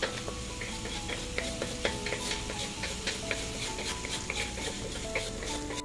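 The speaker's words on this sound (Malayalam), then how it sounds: "ബാക്കി വെള്ളമുണ്ടെങ്കിൽ വറ്റിച്ചതിന് ശേഷം ഇതുപോലെ വറുത്തെടുക്കുക." Meat sizzles and is stir-fried in a pan for a keto ghee roast, steady frying crackle punctuated by frequent light scrapes and taps of the spatula, with no talking.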